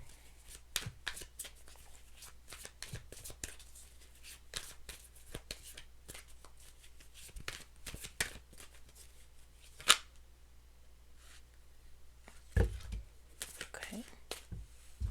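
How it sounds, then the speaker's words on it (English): Soft, quick riffling and tapping of tarot cards being shuffled in short bursts, close and quiet, with occasional louder snaps. "Really struggling to shuffle."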